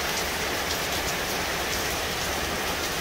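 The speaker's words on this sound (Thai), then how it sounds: "ฝนตก" Rain falls steadily around a home, making a dense, even hiss of drops on surfaces throughout, close and continuous with no voices.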